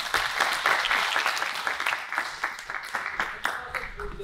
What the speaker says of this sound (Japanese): こんだけ演技をしてくれた彼に拍手をお願いします。